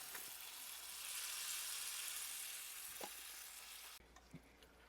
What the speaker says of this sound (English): now to the pan with the reserve oil in it, we're just going to add those beans in and get those heated up